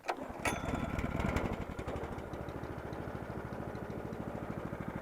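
A vehicle engine runs cold, not yet warmed up, starting with a loud burst and then settling into a steady, rapid rough chug that continues close by without pause.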